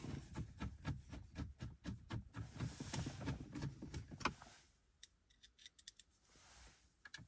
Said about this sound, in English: So now I'm just gonna screw the two screws at the bottom.